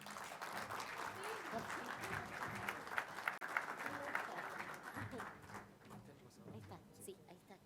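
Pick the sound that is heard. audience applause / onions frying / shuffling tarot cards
audience applause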